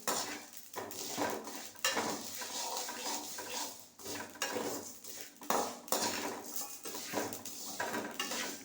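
Asafoetida and spices are dry-roasted in a metal pan while being made into chili powder: a spatula repeatedly scrapes and knocks against the pan in irregular, close, clattering strokes, with no talking.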